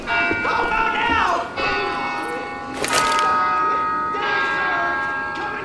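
A large bell tolls loudly in a Left 4 Dead 2 game scene, with sustained metallic ringing and overlapping harmonic decay that keeps sounding across the whole stretch.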